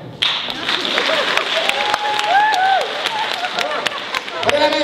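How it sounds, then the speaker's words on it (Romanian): A theatre audience at a stand-up comedy show at a house of culture in Iași applauds steadily throughout, a dense wash of clapping with whistles and crowd voices mixed in. "hai, să aplaudă oamenii care dau cechii."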